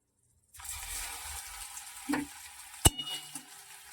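Chopped ginger dropped into hot oil with cumin seeds and a dried red chilli for a vegetarian paneer bharta, giving a steady close sizzle with a sharp clatter partway through.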